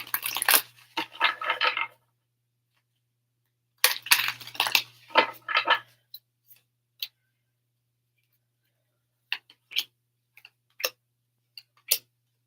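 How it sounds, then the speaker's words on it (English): Tarot cards being shuffled by hand: two bursts of dense riffling flutter, each about two seconds long, then scattered single taps and clicks as the deck is squared, close and quiet in an otherwise silent room. "Let me shuffle real quick."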